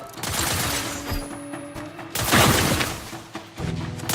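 Gunfire from a teammate in The Outer Worlds 2 video game erupts in loud close blasts and a rattling burst, mixed with game effects and a sharp booming impact.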